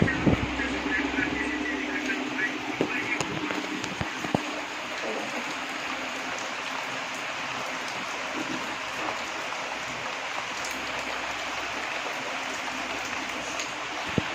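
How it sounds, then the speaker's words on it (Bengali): Steady rain falls outdoors in a rural Bengali village, a dense continuous hiss with occasional faint knocks, heard throughout without any voices. "আর দেখো বন্ধুরা ভালোই বৃষ্টি হচ্ছে"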